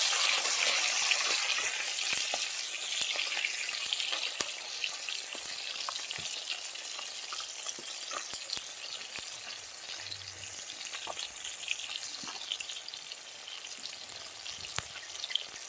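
Chara rui fish sizzle steadily in hot oil in a pan, a continuous close crackle and hiss, with occasional soft clinks and stirring noises and no voices.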